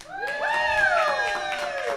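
A crowd at a live Midwest music showcase at Barnwired in Sigourney cheers and whoops, several raised voices rising together, loud and close for a couple of seconds.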